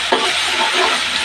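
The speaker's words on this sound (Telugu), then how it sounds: "చిన్న మసాలానే ఫ్రై చేస్తామండి" Masala frying in a pan, a loud close sizzle with a scrape of stirring near the start, steady and without talk.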